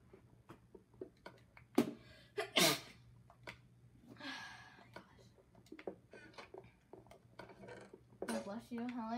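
One sharp sneeze lands in a quiet room alongside clinking dishes and cutlery, with soft whispering and breathing around it.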